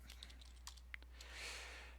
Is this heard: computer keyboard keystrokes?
yes